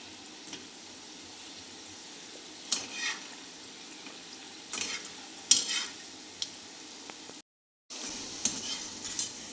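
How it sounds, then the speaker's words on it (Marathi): Gulab jamun dough balls deep-fry in oil over a low flame, giving a steady, soft sizzle with occasional utensil clinks and a brief silent gap near the end. "आता गुलाबजामच्या सगळ्या गोळ्या तळून घेते"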